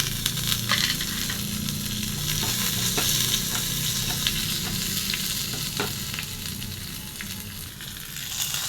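Chopped curry leaves sizzling in hot oil, a loud, dense, continuous hiss and crackle close by, with scattered sharper pops and some stirring scrapes throughout.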